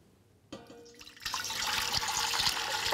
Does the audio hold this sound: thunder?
no